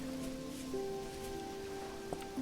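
Steady rain patters in Vintage Story as a constant hiss throughout, under sustained tonal background music, with no talking.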